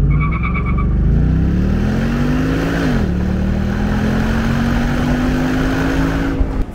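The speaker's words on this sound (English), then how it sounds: "let's try a 0 to 60 test one last time here" A Mustang GT accelerates hard uphill in Sport Plus mode, heard from inside as a loud, rising engine roar that climbs through a gear, dips briefly at the shift, then pulls up again, with no talking.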